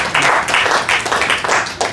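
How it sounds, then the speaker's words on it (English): Audience applause at an evening talk and performance by Acharya Arun Gossai, a dense burst of clapping from many hands, steady and fairly loud for about two seconds with no talking over it. "Give him a round of applause."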